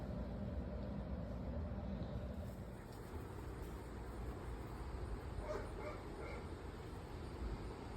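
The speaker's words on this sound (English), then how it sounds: "The puppy wants Eddie's ball." A small dog whimpers and gives a few high yips over steady low background noise, fairly close.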